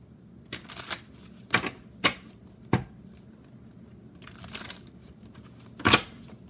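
Several crisp, papery snaps and riffles spaced irregularly over a quiet background as tarot cards are shuffled close by.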